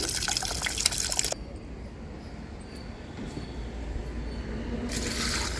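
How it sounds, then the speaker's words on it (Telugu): Water is poured onto small potted plants grown in plastic containers, a soft splashing hiss at the start and again near the end, with a quiet gap between. "ఇలా నీళ్లు పోసేస్తూ ఉంటాను"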